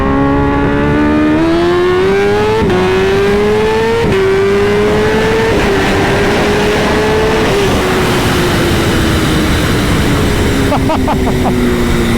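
A Kawasaki Ninja H2 motorcycle with a new exhaust accelerates hard in first gear, its loud engine note rising in pitch through repeated upshift-like steps and then roaring on steadily at close range.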